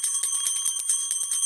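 A decorative metal bell bought at a Gurgaon market rings alone and fairly loud, a rapid steady run of bright jingling strikes that sounds like a small temple bell.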